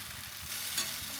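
Rice and masala stirred and tossed in a kadai over a raised flame, giving a brief, soft scraping and sizzling texture close by, with no voices.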